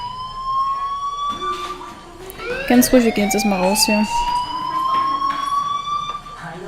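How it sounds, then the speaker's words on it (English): Fire alarm in the video game Life is Strange, a steady electronic alarm tone sounding continuously with rising pitch sweeps, ringing beneath a man's speech. "Hey, do you hear that fire alarm?"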